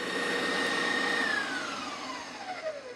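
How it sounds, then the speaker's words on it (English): A stand mixer with a paddle attachment beats butter and sugar for fig cookie dough, giving a steady close motor whine whose pitch slowly drops as the batter thickens, with no voices. "Beat these things with a paddle attachment of my mixer for probably like 4 or 5 minutes"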